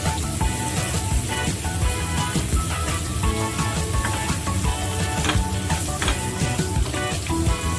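Onion and blended yellow spice paste stir-fried in a pan for a Tegal-style dish, a dense, continuous close-up sizzle with crackling pops throughout and no talking.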